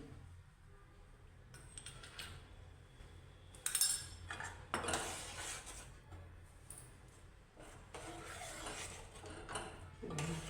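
A spoon stirring rice kheer with saffron and cardamom in a pot, a series of metallic scrapes and clinks against the pot walls in bursts, close and fairly quiet, no voices.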